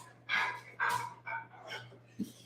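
A female dog, restless and wanting attention, gives a few short whiny barks and yips in quick succession, fairly close, with breathy whimpers between them and a steady low hum underneath.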